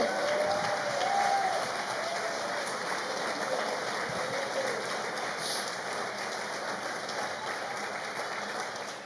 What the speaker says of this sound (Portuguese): Mandemos um aplauso a Ele